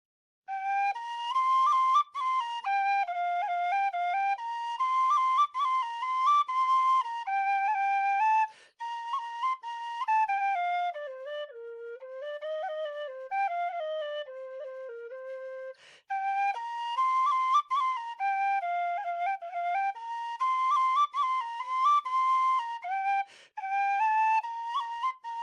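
Kerry tin whistle playing a lively melody alone, clear, bright and soft, with phrases separated by short pauses and a lower, gentler passage in the middle.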